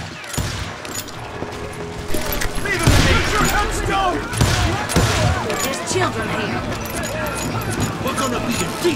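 Gunfire in the Western shooter Call of Juarez Gunslinger, a busy stretch of repeated shots and impacts over a dense game soundscape, with someone narrating on top throughout.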